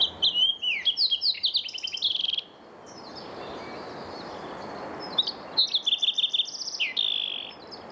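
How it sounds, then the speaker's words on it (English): A fox sparrow sings a series of bright, rapid trilled phrases in mountain shrubland along the Pacific Crest Trail, pausing briefly before a second burst of the song, clear and fairly close over quiet background. "The song of fox sparrow sounds very similar to green-tailed towhee."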